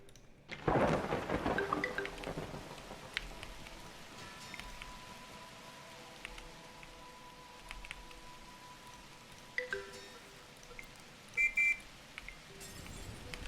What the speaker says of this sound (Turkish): Yağmur mu istiyorsunuz? Yağmuru yağdıralım baba.